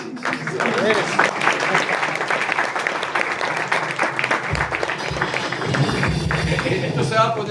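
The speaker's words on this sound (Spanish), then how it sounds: "Pero dale un aplauso." Audience applause fills the clip, a dense steady patter of many hands clapping at close range, with crowd noise mixed in throughout, during a religious talk.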